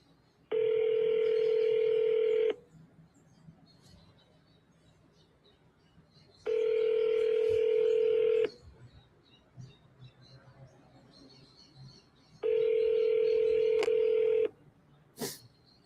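A telephone ringing tone sounds three times, each long buzzing ring lasting about two seconds with quiet pauses between, clear and close.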